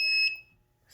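A smoke detector on a fire alarm panel, set off with a magnet, gives a loud, piercing electronic alarm tone that holds steady briefly, then cuts off, with a faint beep starting again at the end.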